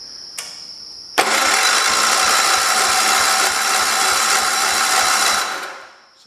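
A 1968 tractor engine cranks over after a brief click, settling into a steady, loud mechanical chug with a regular pulsing rhythm for about five seconds before winding down, close up and with no talking.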